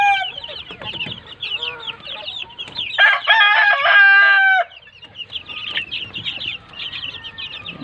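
Chickens clucking repeatedly in a hot farmyard, with a loud, close rooster crow rising in the middle of the clip; steady background noise continues throughout.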